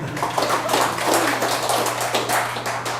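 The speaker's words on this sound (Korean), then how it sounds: "박수 좀 쳐주세요." Church congregation applauding together, a dense steady patter of many hands clapping at close range for about three seconds, with no talk over it.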